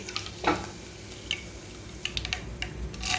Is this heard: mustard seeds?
yes